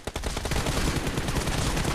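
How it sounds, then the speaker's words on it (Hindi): Rapid gunfire from the mobile battle game BGMI, a dense burst of repeated shots rattling for two seconds at moderate loudness with no talk. "इसी की गन उठा के मार रहे हैं उसको।"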